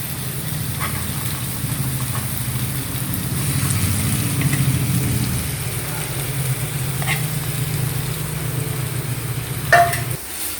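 Potato filling for aloo bonda frying in oil in a pan, a continuous moderate sizzle with a low hum underneath and a few light stirring knocks near the end.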